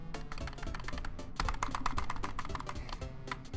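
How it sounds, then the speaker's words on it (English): Rapid, continuous clacking of computer keyboard keys mashed repeatedly while steering a snake in Slither.io with the arrow keys, loud and close, with no talking. "I had to just keep spamming on my keys. It's just making loud noises right now."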